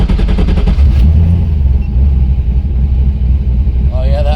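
An LS-swapped Miata with turbo, nitrous and a ported LS2 intake runs right after starting. A loud, close, deep engine rumble holds steady, and someone talks over it.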